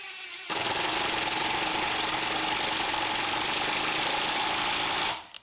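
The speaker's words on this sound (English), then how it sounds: "it drives it down a little quicker, almost like a drill, and then it continues to impact." A Hitachi triple hammer impact driver drives a screw, running loud and steady for about five seconds with a dense, rapid hammering rattle, then stopping abruptly.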